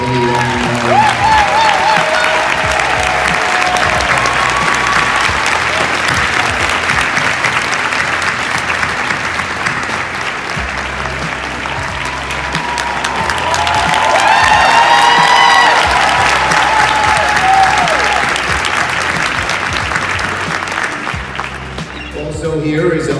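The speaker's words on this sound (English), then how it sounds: "Can I ask them to stand up and we applaud you, Lenita and Marland" An audience at a community inauguration for a House Democratic leader applauds steadily and loudly for over twenty seconds, with scattered cheers and whoops rising mid-way before the clapping fades out.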